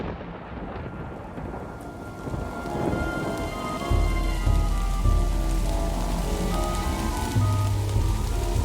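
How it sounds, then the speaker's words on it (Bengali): Heavy rain pours down steadily outdoors at night, a dense loud wash with deep thunder rumbling in and booming more strongly later on, no voices present. "বাইরে মুষলধারে বৃষ্টি শুরু হয়েছে।"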